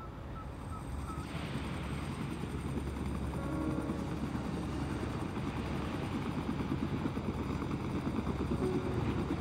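A rescue helicopter's rotor thumps in a fast, steady rhythm under a continuous engine drone, holding at a moderate distance, during the Amoco Cadiz tanker disaster.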